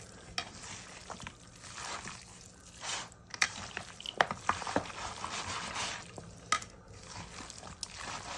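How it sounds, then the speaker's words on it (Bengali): A spoon stirs fried spices through a cup of mustard oil for Hyderabadi dum chicken biryani, giving soft scraping and clinking strokes in a slow, uneven rhythm, close by with no talk. "এটা আস্তে আস্তে করে ভালোভাবে ধৈর্য ধরে মিক্স করতে হবে।"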